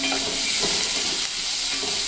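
A tempering sizzles and crackles loudly in a very hot kadhai, a continuous close frying hiss with small pops throughout.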